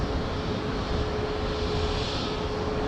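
Southwest airliner landing at Dallas Love Field, a broad steady engine roar heard from outdoors at moderate distance, sustained and even throughout.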